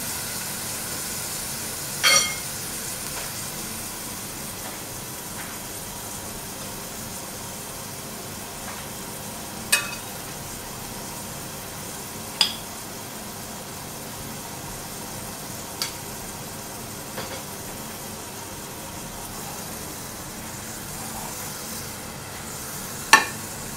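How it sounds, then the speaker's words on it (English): Rice searing in butter in a pan for a cacio e pepe risotto, giving a steady low sizzle and hiss throughout, with occasional sharp clicks and taps of a utensil and no talking. "So we just sear a little bit. And we add some butter."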